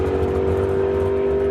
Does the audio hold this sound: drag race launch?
yes